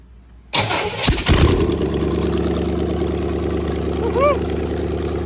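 A T-bucket hot rod engine cranks briefly and catches, roaring up loudly before settling into a steady, rumbling idle close by.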